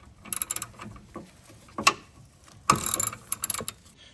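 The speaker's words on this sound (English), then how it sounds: "I had to get my 3-foot breaker bar on it to loosen it from this post" A breaker bar works on a tight battery terminal bolt of a 2021-or-newer GMC Yukon, giving bursts of quick ratcheting clicks in two main clusters, close and fairly loud, with no talking.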